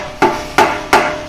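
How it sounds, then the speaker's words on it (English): A mallet taps a Moto Torque crash guard pipe on a Royal Enfield Himalayan BS6 motorcycle, giving three sharp, close metallic knocks about a third of a second apart, each ringing briefly before the next, with no talking. "I'll use this the mallet, and I'll try to tap this"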